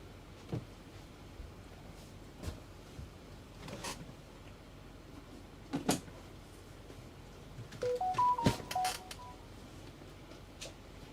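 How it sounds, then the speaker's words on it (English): A mobile phone goes off indoors during a PC build, with scattered faint clicks, then a quick run of short electronic beeps and chimes near the end. "Can you put your phone on silent? I can, because it'll probably keep going off."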